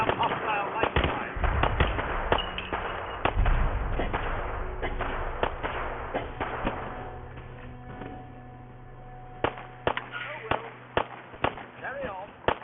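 Hostile gunfire in a modded Fallout 4 battle: scattered sharp cracks and heavier thumps, some in quick bursts, over a low rumbling backdrop, with voices speaking in between.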